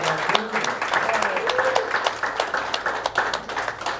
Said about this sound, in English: Let's give our queens another round of applause.